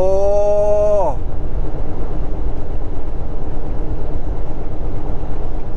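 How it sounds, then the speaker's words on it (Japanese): A freight train passes on a mountain road in Oregon or Washington, a steady loud rumble and roar that continues throughout after a brief falling horn-like tone at the start. "前から来ました、貨物列車。"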